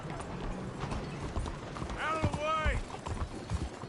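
Steady clip-clop of horse hooves at a quick pace in Red Dead Redemption 2, under a speaking voice, with a brief horse whinny in the middle.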